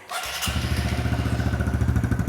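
A Honda CRF125F dirt bike engine catches after a short cranking thump and settles into a steady, rapid, throbbing idle, close and fairly loud.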